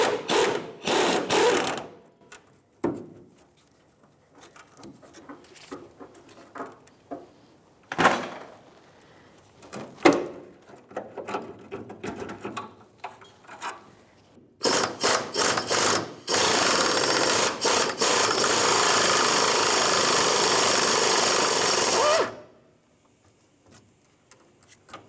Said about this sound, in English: 1/2 inch wrench and a 15mm socket with my air gun, trying to get these to break free